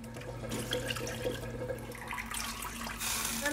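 Tap water runs steadily into a pot of chicken soup on the stove, a continuous close rush with a faint hum underneath and a brighter splash toward the end.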